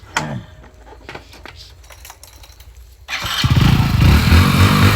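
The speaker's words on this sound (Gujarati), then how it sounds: "સેલે ચાલુ થઈ ગયું હવે સેલ્ફ સ્ટાર્ટ ગાડી થઈ આવું જાય" A motorcycle engine kicks in on its electric self-starter after a quieter stretch of faint background sounds, then settles into a loud, steady close-up idle rumble.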